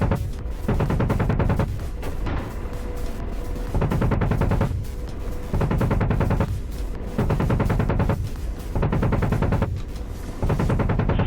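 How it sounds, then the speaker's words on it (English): Bursts of automatic gunfire from combat in the DCS Apache helicopter flight simulator game, loud repeated volleys of about a second each separated by short gaps, with no voices. "he's shooting us from over there"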